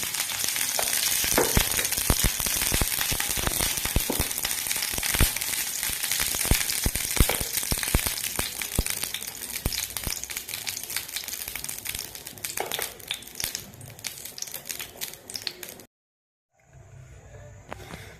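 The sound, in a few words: ghee sizzling in a pan on the stove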